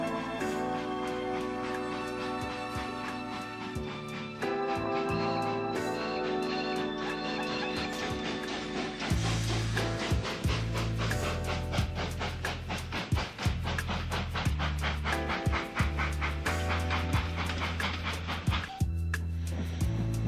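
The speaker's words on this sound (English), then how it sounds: "The 2 locomotives steam off in the direction of Birmingham." Two steam locomotives hauling off toward Birmingham, loud rhythmic chuffing and exhaust beats with clanking and rail clatter, building in intensity as they depart, with no talking.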